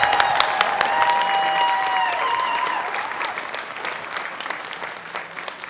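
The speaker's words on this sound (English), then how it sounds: "I just want everyone to give a round of applause to the wonderful interpreter that we have here today." Audience applause at a CONvergence 2023 masquerade, rising warmly and holding steady before tapering off, with a few faint voices in the crowd.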